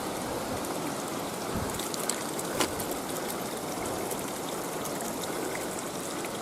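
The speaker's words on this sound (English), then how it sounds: "Water, water everywhere, including water for drinking" Running water of the Jérusalem River near its source rushes steadily and evenly, a continuous broadband wash with faint splashes, close and moderately loud with no voices.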